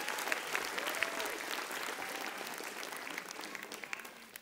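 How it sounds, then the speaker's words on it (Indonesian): Audience applause at an Indonesian stand-up comedy show, a dense, steady wash of many hands clapping that holds at an even level for the whole stretch, with faint crowd voices mixed in. "Tepuk tangan."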